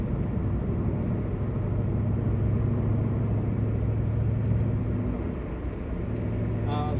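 Ford Mustang Mach 1 engine, still cold, running while driving on a freeway: a steady low rumble of engine and road noise held constant throughout, with no talking over it.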